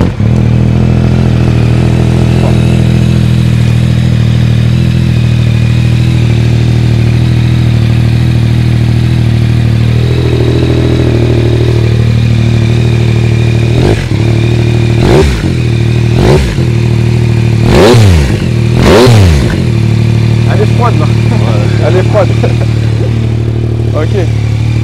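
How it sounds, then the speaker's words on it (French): A 2021 Yamaha Tracer 9 three-cylinder CP3 motorcycle engine starts and idles loudly and steadily nearby, with a few quick throttle blips rising and falling near the end. "On va leur faire écouter le bruit, le magnifique son du CP3 de la ligne Accra."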